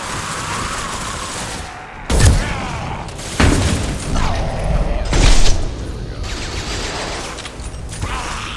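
Gunfire in the video game Mass Effect 2, with several loud, sharp shots and bursts spread across the stretch, mixed with mechanical clanks and a rumbling background.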